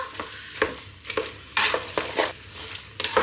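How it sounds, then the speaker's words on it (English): Food sizzles in a Ninja Speedi cooker pan while a utensil stirs, producing rhythmic scraping bursts every half second or so over the frying hiss. "you can hear a bit of a sizzle coming together now"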